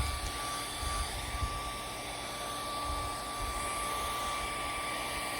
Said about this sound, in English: If you're cleaning upholstery, get yourself a blow dryer.